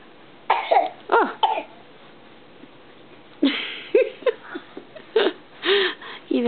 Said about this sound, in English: Even tired and coughing,